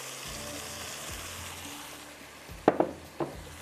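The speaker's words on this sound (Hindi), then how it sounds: "चने को थोड़ा सा मसाले के साथ भूनते हैं" Chickpeas frying with spices in a pan make a soft, low sizzle, broken near the end by a few sharp clatters of stirring against the pan.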